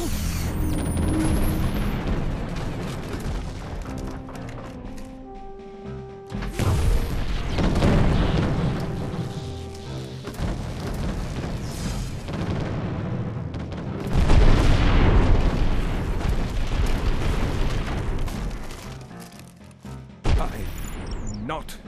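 Ship cannons in the Treasure Planet game fire on pirate vessels, with heavy booms and mechanical clanking spread across a busy battle din, ending in a sharp blast. Speech is heard in the clip.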